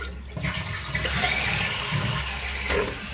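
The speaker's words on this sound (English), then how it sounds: "And then you see our water going down our overflow tube as well." Water drains down the overflow tube in a toilet tank, a close, continuous rushing gurgle that swells and settles over a few seconds, with no voices.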